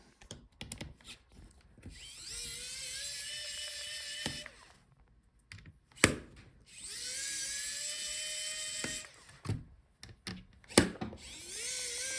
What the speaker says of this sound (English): Now let's disconnect our screen assembly. So unscrew the hinges.